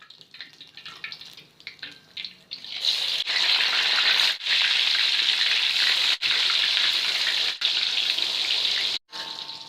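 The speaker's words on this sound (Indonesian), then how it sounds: "Kemudian kita goreng sampai matang ya teman-teman." Chili and shrimp paste fry for sambal terasi in a loud, steady hiss and sizzle that swells after a quieter start, with brief breaks in the crackle.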